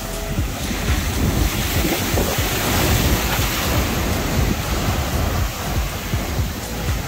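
Heavy ocean surf surges and crashes at Tinley Manor beach, a loud, continuous roar of rough water with wind buffeting the microphone and no voices.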